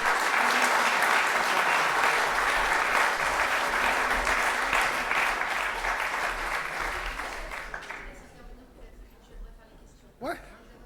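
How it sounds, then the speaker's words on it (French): Sustained applause from a conference audience honoring president Michel Picon, a dense, full wash of clapping that holds steady and then gradually thins and dies away, followed by faint movement and a brief spoken sound near the end. "vous pouvez applaudir le président Michel Picon"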